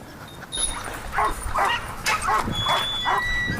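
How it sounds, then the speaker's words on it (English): A sled dog at a Jamaican dogsled racing camp barks and yips in short excited bursts, several close calls spread over a few seconds, with a voice heard faintly. "this is Marbles, one of our favorite dogs. He's a good runner"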